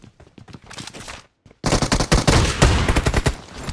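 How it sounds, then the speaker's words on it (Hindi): Rapid shotgun and gunfire blasts in PUBG Mobile, a sparse run of sharp shots followed by a loud, dense volley of close, repeated firing. "अब यहाँ पे देखो इस बंदे को मैं शॉटगन से कैसे मारता हूँ"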